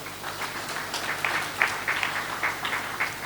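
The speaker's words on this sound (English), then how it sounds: "A round of applause for him" Audience applause in a conference hall for Chad's Minister of Defense at a high-level African counter-terrorism meeting, moderate and steady clapping from a small crowd lasting a few seconds.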